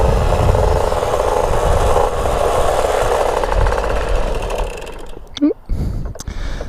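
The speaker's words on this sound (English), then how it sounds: "Never mind the kickstarting. Poor idle. This bike's not tuned." An untuned motorcycle running with a rough, uneven idle, a loud rapid chattering engine close by for most of the stretch before it drops off and a voice speaks over the fading rumble.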